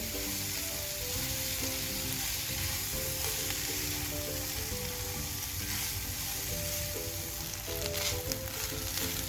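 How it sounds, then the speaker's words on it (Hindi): Chicken frying in a pan for a bun patty filling, a continuous steady sizzle with occasional stirring scrapes, fairly quiet and close, with background music running underneath. "अब हम डालेंगे चिकन। 2 मिनट के लिए इसको भून लें।"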